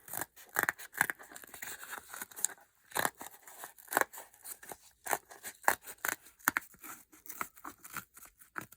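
Scissors snipping through craft material while making a Brigid doll and chair, a string of sharp close cuts and rustles in irregular bursts with short pauses between.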